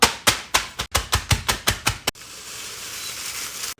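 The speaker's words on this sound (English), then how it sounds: "Take some Doritos, put them in a bag, crush them up." Doritos tortilla chips crushed in a bag for a mozzarella stick coating: about nine sharp, loud crunching bursts in a steady rhythm, then a continuous close rustling crackle of the bag and crumbs, with no talking.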